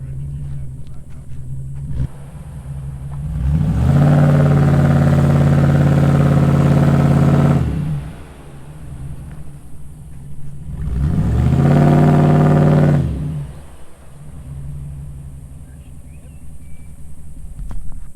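A four-wheel drive car's engine idles, then surges into two long, loud revs while the vehicle strains to reverse, dropping back to a low idle between and after the bursts.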